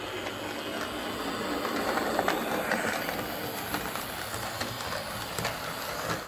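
A Hornby Dublo Cardiff Castle model locomotive with a remagnetised motor runs along the track with a steady whirring, rattling hum, close and continuous, with no talking.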